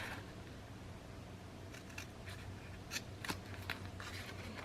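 Scissors snip through paper in quiet, close, brief cuts, a few crisp clips spaced irregularly while a mini album cover is trimmed at a crafting table.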